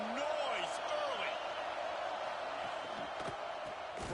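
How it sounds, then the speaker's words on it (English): A stadium crowd at a college football game roars in a continuous, dense wash of cheering and whoops, with a voice talking over it at the start. "This crowd bringing the energy and noise early."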